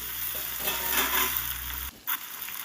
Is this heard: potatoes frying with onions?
yes